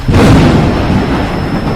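Loud rolling thunder rumbles close and heavy over a forest just before rain, a single sustained roar with no voices.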